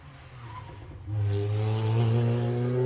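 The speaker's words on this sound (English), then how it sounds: "Has that slight whine to the engine note that the supercharger gives" A supercharged Mini race car pulls away at a historic hill sprint, its engine note rising abruptly into a loud, sustained drone with a tonal whine riding over it.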